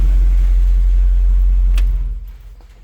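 A 1966 widebody Mustang with a newly fitted EFI engine idles with a deep, steady rumble, then shuts off at about two seconds, and the sound fades quickly to a quiet tail.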